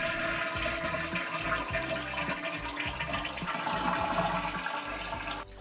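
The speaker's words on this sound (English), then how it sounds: "Then I flush the toilet because we need to empty the bowl." A toilet flushes to empty its bowl during a flush valve repair, with a steady rushing swirl of water close by that continues for several seconds, then cuts off abruptly.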